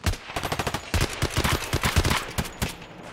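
Automatic gunfire in Escape From Tarkov on the Ground Zero map, rapid bursts of shots separated by short pauses, loud and close, with no voices over it.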